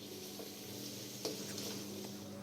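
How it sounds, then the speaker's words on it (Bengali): Marinated chicken fries in a frying pan with a faint, steady sizzle, broken by a few soft stirring clicks and scrapes. "এখন এটা ফ্রাই প্যানে দিয়ে দিচ্ছি।"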